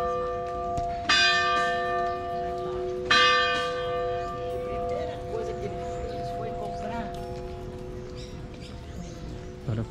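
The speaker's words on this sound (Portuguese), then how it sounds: "numa igreja, toca o sino." A church bell in the historic centre of Paraty, Brazil, rings out twice with rich, lingering overtones that fade slowly, while birds chirp faintly in the background.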